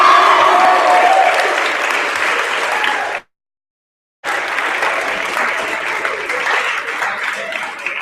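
Audience applause fills a student government election results announcement, steady and loud, breaking off into a second of silence before resuming just as strong.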